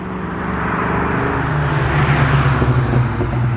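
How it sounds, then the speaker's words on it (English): Road traffic close by makes a loud, steady engine roar that swells as a vehicle passes, with no talk. "Terrible traffic noise."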